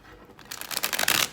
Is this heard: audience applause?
no